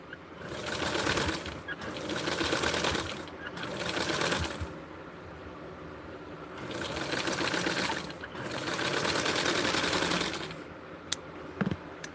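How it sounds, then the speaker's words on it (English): A sewing machine stitches fabric in several sustained runs, its fast needle whir starting and stopping in distinct bursts with short pauses between, close and steady, with no voices. "So I'm just going to sew,"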